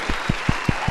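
Five evenly spaced hand claps made while wearing compression gloves, each one dull and muffled, close by over a steady background hiss.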